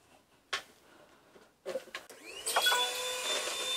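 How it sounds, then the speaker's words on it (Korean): A household vacuum cleaner is handled with a few knocks and clatters, then starts up nearby and settles into a steady whining drone. "어, 청소기도 들어."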